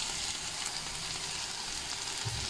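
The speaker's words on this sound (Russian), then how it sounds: "Теперь добавляем сюда соевый соус с сахаром и чесноком." Soy sauce mixed with sugar and garlic hits a hot pan and sizzles as a steady, dense hiss throughout, with a faint low stir near the end.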